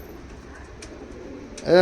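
A pigeon gives a single short, close coo at the very end, after a quiet stretch of faint background noise.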